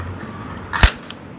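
A single sharp crack of a toy cap gun firing a ring cap during Diwali, close and loud, standing out over faint background hiss.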